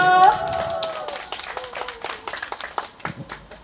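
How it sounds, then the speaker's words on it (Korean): Scattered clapping from an audience at an outdoor temple music concert on a special stage in a Buddhist temple courtyard, sparse and uneven hand claps following a brief sustained tone at the start. "여러분 박수 좀 한번 주십시오."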